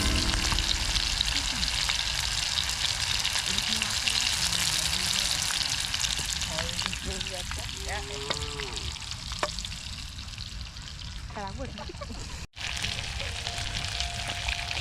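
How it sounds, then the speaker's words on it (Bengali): Chicken fries outdoors at a car-camping New Year gathering, a steady sizzle with a crackling hiss that carries on throughout, plus some faint background sounds and a brief dropout near the end. "ফ্রাই হচ্ছে আমাদের চিকেন।"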